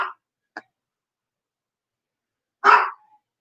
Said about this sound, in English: It's enough that the dogs are barking.